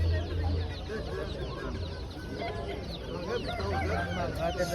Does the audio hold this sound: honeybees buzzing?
no